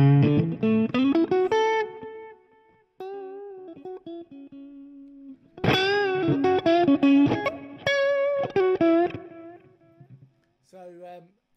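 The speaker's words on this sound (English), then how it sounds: "So that's the Strat." A Fender Stratocaster electric guitar plays fairly clean chords and single notes in two bursts separated by a short pause, bright and close, ending with a few sparse notes.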